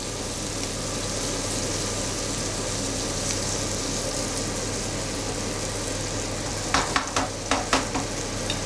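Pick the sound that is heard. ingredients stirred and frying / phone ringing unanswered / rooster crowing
ingredients stirred and frying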